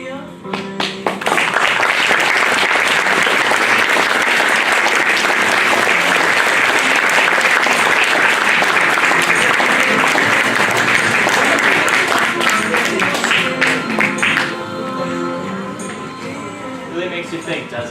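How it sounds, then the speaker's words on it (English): A live theater audience at a comedy show bursts into loud, sustained applause that runs for well over ten seconds before tapering off, with a voice faintly audible beneath the clapping near the end. "Let's give him another round of applause."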